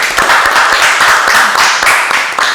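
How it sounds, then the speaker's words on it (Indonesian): Hands clap loudly and close by in a quick, irregular burst from a small group at a hotel food-and-beverage gathering, sharp claps spread through the whole moment with no talking. "Tepuk tangan dulu."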